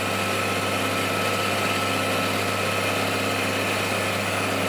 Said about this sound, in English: to see two old classic John Deeres out working in the field